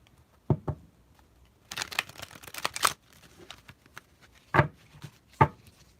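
A deck of cards being shuffled by hand: a crisp riffling burst in the middle, framed by a few separate soft slaps and taps, close and clear.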